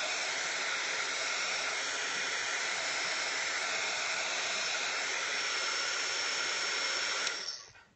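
A hair dryer blows over a watercolor painting of a bird of paradise, a steady close airy roar that runs unbroken for several seconds and then switches off near the end, with no voices.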